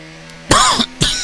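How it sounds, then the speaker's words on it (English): A streamer with a seasonal cold coughs twice, sharp, harsh bursts close to the microphone with a short gap between them, over faint background hum. "I do apologise if there is a bit of coughing and sniffing of the cold season for myself"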